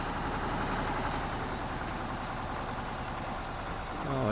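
A heavy truck in Spintires descending an Alpine road, its compressed-air braking system working: a steady loud engine rumble with broadband hiss throughout, swelling slightly at the end.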